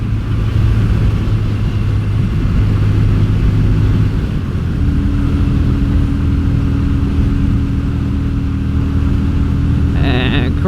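A Yamaha Virago XV250 motorcycle tuned with pod filters pulls away in fourth gear, a loud steady engine drone with a tone that shifts upward partway through, mixed with heavy wind rumble.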